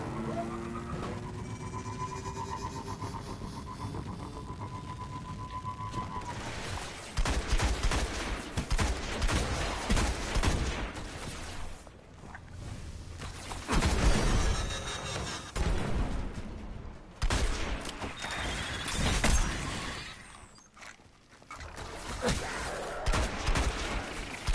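Sustained gunfire from weapons in the sci-fi shooter Destiny crackles through a battle, with volleys of rapid shots and heavier booms rolling in waves, fairly loud and continuous for the whole stretch.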